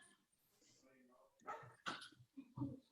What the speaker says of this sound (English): Why is our dog barking?